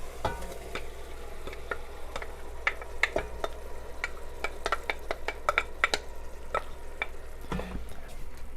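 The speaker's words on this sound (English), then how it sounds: "So now that our beans are in, we've given that a good stir." A spoon stirs canned white beans into a pot of chili, making a run of clicks, scrapes and knocks against the pot over a low simmering sizzle, close by and without talk.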